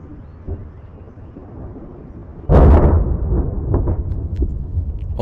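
A close lightning strike sets off a sudden, violent thunder clap midway, bursting out of quiet storm ambience like a detonation and then rolling into a heavy, lingering rumble.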